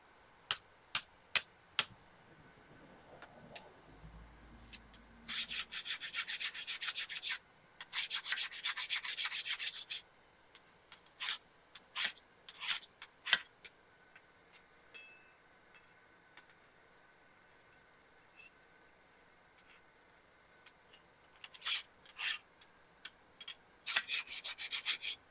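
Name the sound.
scrubbing dirt off a forged axe head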